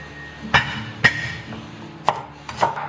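A cleaver smacks down on sand ginger on a cutting board, four sharp separate thwacks at uneven intervals, close and crisp over a faint background hum.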